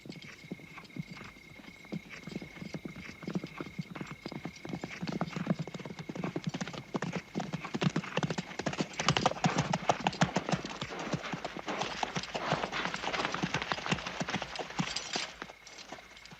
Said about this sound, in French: Des centaines de chevaux.